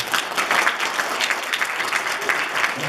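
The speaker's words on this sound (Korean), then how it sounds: "여러분들 우리 학생들 위해서 박수 한번 주시죠." An audience at a students' speech contest claps steadily and warmly throughout, a dense patter of many hands filling the space without pause.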